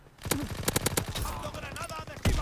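Rapid bursts of gunfire crackle close by in quick succession in a World War II video game, with a voice talking underneath the shots.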